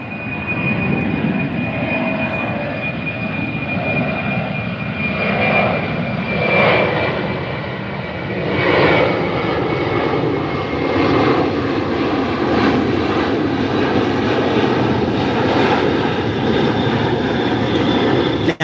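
An airplane passes overhead, a steady broadband engine roar with a faint high whine that holds at a fairly loud level for the whole stretch, swelling slightly in spots, with no voices over it.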